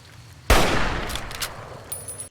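A hunting rifle firing once in Fallout New Vegas, a sharp loud crack followed by a decaying rumbling echo tail lasting nearly two seconds.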